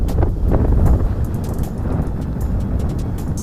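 Strong wind buffets the microphone outdoors on a freezing Canadian winter day, a loud continuous low rumble with gusty swells throughout and no voices.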